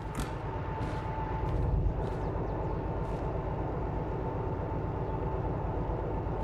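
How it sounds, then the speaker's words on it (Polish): A locomotive in the train simulator Derail Valley starts up and begins to move, giving a steady, dense low rumble with mechanical hiss and a few brief high bursts over about six seconds, with no talk. "Ale odpalamy lokomotywę."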